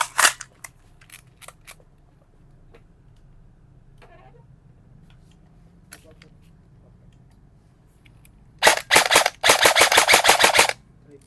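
Delta Airsoft full metal AEG airsoft rifle firing on a chronograph test, with a few scattered single shots early, then a loud rapid burst of sharp cracks near the end.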